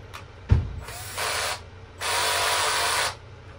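A DeWalt 12 volt drill with a 7/8 socket runs at its slowest speed in two short whirring bursts, after a single sharp knock, close up and with no talk.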